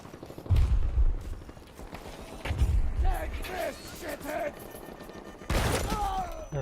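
Gunfire in the shooter game Battlefield 2042, several sharp shots and thumps spread through a busy mix of battle noise, with a voice talking faintly over it.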